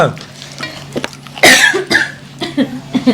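A sharp cough bursts out amid scattered clinks and stirring noises, with a low steady hum underneath; a couple of softer coughs or throat sounds follow.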